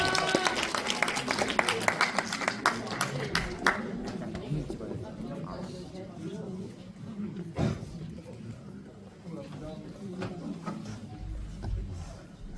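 Applause from an audience at a rehabilitation and independence department's academic presentation event, clapping that builds early and fades out, with a voice speaking over it.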